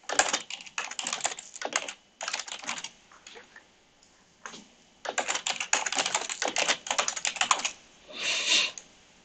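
Bursts of rapid keystrokes on a computer keyboard as a new password is entered, clattering in quick runs separated by short pauses, close and clear with no talk over them.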